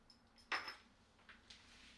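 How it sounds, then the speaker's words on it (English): A single clink of a spoon against the metal pot while stirring lamb rogan josh, followed by a couple of fainter scrapes in an otherwise quiet kitchen. "Get a good stir."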